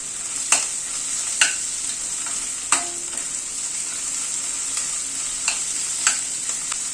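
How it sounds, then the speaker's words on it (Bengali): Onion, garlic and chopped green chillies frying in a pan give a steady high sizzle, broken by several sharp stirring clacks spaced a second or so apart, close and alone without voices. "পেঁয়াজ রসুন কাঁচা লঙ্কাকে একটুখানি ভেজে নিই।"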